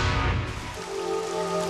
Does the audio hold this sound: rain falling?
yes